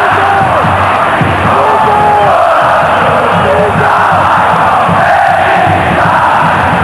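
Palmeiras supporters sing in a packed stadium during a 1995 Copa Libertadores match against Bolívar, a loud, steady wall of massed voices with rolling chant-like swells, heard up close and continuous throughout.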